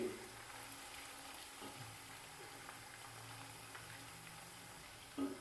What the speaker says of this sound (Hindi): अच्छे से मिक्स करेंगे और हल्का सा इनको भी फ्राई कर लेंगे